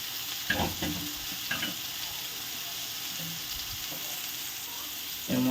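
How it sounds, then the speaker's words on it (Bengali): Soybean chunks frying in oil for a Bengali soyabean and potato curry, a constant close sizzle with a few stirring scrapes early on and a louder clatter at the end. "এবার আমি এই তেলের মধ্যে সোয়াবিনগুলোকে একটু ভেজে নেব"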